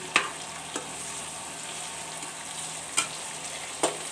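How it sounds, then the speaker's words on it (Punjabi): Bitter gourd peels roast in a pan with a steady low sizzle and a few sharp clinks of a utensil stirring against the metal, fairly close and without talk. "ਆਹ ਕਰੇਲੇ ਦੀਆਂ ਛੇਲਾਂ ਇਹ ਮੈਂ ਭੁੰਨਣੀਆਂ ਵਾ"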